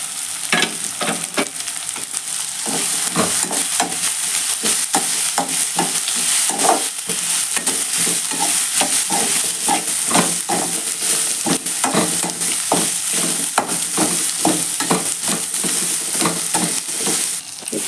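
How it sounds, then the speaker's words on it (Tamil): Capsicum stir-fried in a pan for lemon rice, a steady close sizzle broken by frequent sharp scraping strokes of a spatula throughout, with no voices. "இப்போ இதை குடமிளகாய் சேர்த்துறேன்."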